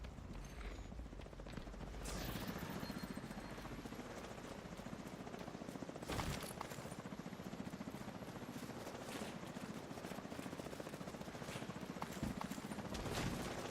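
In the video game The Division 2, a helicopter draws near with a dense, continuous rotor chop and engine roar, loud and sustained, with a few sharp bursts over it.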